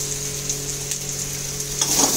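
Spice masala seasoned with salt and sugar fries in a pan with a constant bright hiss, a faint steady hum beneath, and a louder spattering flare near the end.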